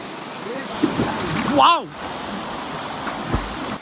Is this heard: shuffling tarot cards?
no